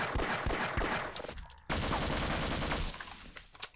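Gunfire from the video game Half-Life, loud, dense bursts of shots packed into rapid volleys with a short lull midway, then a renewed barrage of sustained firing.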